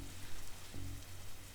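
Steady rain falling in the detective video game Dark Detective, a continuous soft hiss of rainfall on surfaces with a low background hum and a brief tonal blip midway, fairly quiet and without voices.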